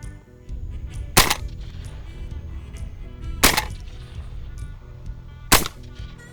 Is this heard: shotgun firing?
yes